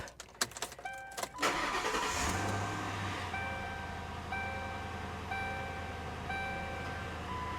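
A 2009 Lincoln Town Car engine cranks briefly and then catches, settling into a steady idle, while a warning chime beeps at regular intervals, with brake, ABS and traction control warnings on.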